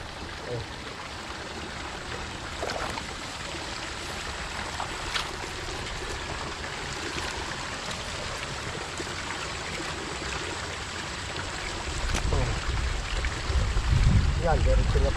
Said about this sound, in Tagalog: Bubuksan po natin yung patubig.